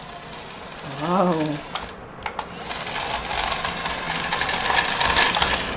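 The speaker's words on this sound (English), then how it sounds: "It's a remote control backhoe." A small remote control toy backhoe's electric motor whirs continuously at close range, with a quick rising-and-falling whine early on, a few clicks, and a brief exclamation.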